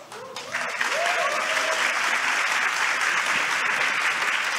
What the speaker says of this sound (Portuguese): Uma salva de palmas para todo o período de perguntas aqui.